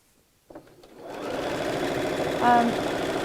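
A sewing machine stitches strips of woven fabric for a cushion cover, with a steady close whirring hum that starts after a brief handling noise and runs evenly to the end.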